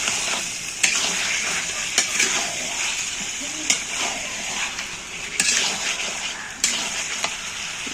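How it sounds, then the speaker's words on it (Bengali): Beef sizzling as it is sautéed in a pan, a loud continuous hiss broken by sharp scrapes and clacks of stirring every second or so, with no talk. "মাংসটা দিয়ে ভালো করে কষিয়ে নেব।"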